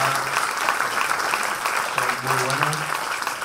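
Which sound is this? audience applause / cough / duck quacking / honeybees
audience applause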